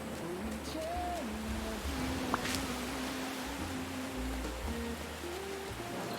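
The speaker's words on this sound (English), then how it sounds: "luckily it's raining and it's really working your sound system well" Steady rain in a video game hisses throughout at an even level through a Logitech Z47 speaker system, with faint tonal sounds drifting underneath and one brief sharp tick.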